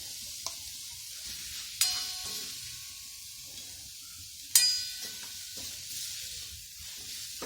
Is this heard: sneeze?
no